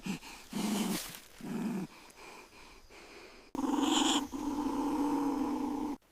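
Young badger cubs growl and snap inside a dark burrow with a python closing in: rough, throaty growling bursts in short bouts, then a louder, sustained snarling stretch, close and with no talk.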